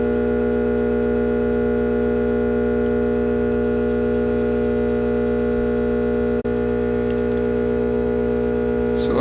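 A hot air gun runs near a metal sphere with a steady electrical hum and a constant whirring drone that holds for several seconds. A faint click cuts in partway through.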